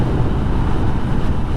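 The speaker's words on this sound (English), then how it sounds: "And it is windy." Steady wind buffeting a microphone while riding a 2022 Honda Navi motorcycle, a loud continuous rumbling roar with no break and no talking.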